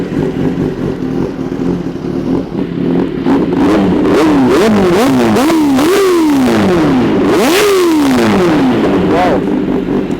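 A Kawasaki ZX10R sportbike with an Arrow mid pipe and end can revs hard again and again in loud, close blips, the pitch sweeping up and falling back several times over a steady idle.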